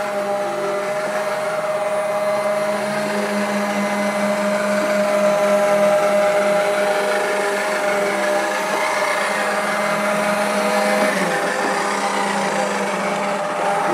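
A Vileda VR 101 robotic vacuum cleaner runs on a floor indoors, a steady loud whirring motor hum with a high whine, continuous and close throughout.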